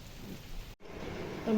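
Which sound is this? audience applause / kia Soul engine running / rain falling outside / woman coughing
rain falling outside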